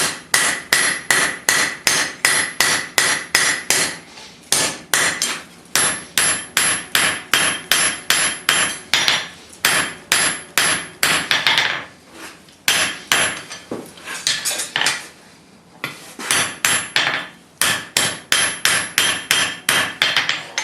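Hammer blows ring on hot steel over an anvil while forging bolt jaw tongs, a loud, close, steady rhythm of sharp metallic strikes in quick bursts separated by short pauses.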